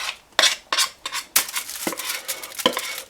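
Thick nuts-and-chocolate fudge mixture is poured and scraped from a bowl into a foil-lined pan, with a spoon knocking and clinking sharply against the dish in several separate strikes at close range.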